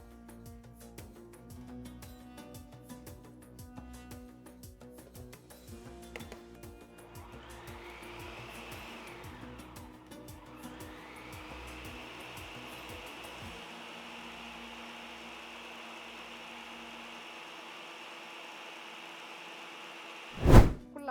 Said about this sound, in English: We will resume blending until the sugar is finely ground.